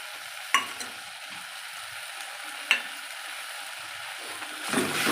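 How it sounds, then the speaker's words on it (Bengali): Spice paste frying with a splash of water in a pan for vegetable khichuri gives a soft, steady sizzle, with two sharp spatula knocks and a louder stirring burst at the end, close by and without speech. "জল দিয়ে ভালো করে কষে নেব"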